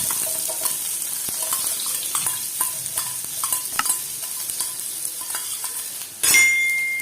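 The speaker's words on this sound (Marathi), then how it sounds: "आता आपलं तेल गरम झालेलं आहे. आता आपण तेलामध्ये हा कापलेला एक कांदा घालून घेऊया." Chopped onion frying in hot oil, a steady close sizzle with repeated stirring scrapes and clicks against the pan, ending in a sudden louder burst of hiss.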